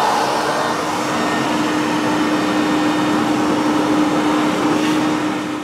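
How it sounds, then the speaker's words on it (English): Vacuum cleaner running steadily inside a clothes dryer drum to clear built-up lint, a continuous close, loud whirring drone with a steady tonal hum and no talk. "what we're gonna do is just vacuum the inside of the dryer, as the lint may have built up in there."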